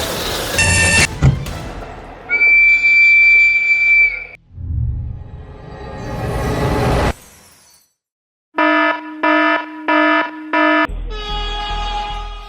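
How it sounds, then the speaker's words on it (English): A train driver in the Czech Republic sounds the warning horn: several loud, harmonic blasts in separate bursts, broken by gaps and other noise, with a final run of short pulsed toots. "The train driver in the Czech Republic sounded the warning horn right on time."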